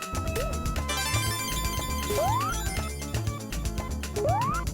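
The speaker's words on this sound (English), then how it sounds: "That sound is none other than the sound that plays when you destroy the robot generator" Chiptune-style jingle from Sonic CD, the sound for destroying the robot generator that also plays when Tails gets an extra life: busy synth tones with rising, swooping notes and rapid percussive blips, loud and steady.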